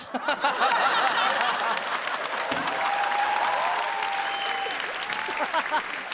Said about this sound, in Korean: 지금 이 박수도 나한테 치는 게 아니라 음향 감독님한테 치는 거 같지?